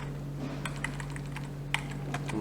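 Typing on a computer keyboard, a run of light, irregular key clicks close by over a steady electrical hum, with no voices.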